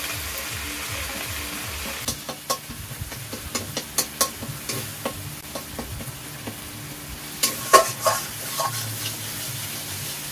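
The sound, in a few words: frying and stirring spice paste with tomato in a pan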